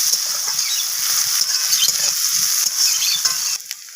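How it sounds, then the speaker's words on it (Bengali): Chopped onions fry in hot oil in a pan while a Bengali pumpkin-greens and fish-roe dish is being cooked, giving a steady, close, bright sizzle with soft stirring clicks and no talking. "তো পেঁয়াজটাকে আমি একটু ভেজে নেব কালার চেঞ্জ হওয়া পর্যন্ত।"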